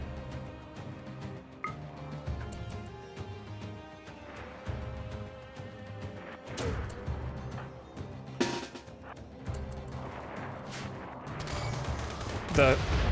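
Gunfire crackles through a RimWorld battle, with repeated sharp shots and bursts over steady background music, building into denser volleys toward the end.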